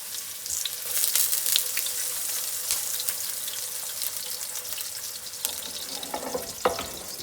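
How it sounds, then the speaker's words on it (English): Oil sizzles and crackles steadily as eggplant fries in a pan, with scattered pops and occasional clinks of stirring, close up and without speech. "Now, start frying the eggplant."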